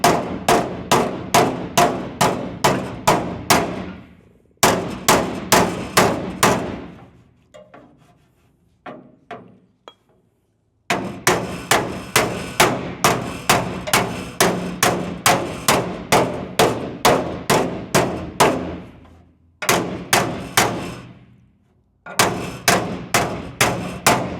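Hammer and dolly working a dent on a 1992 Chevy OBS truck body, loud ringing metallic blows in fast even runs, several bursts separated by brief pauses, close and alone.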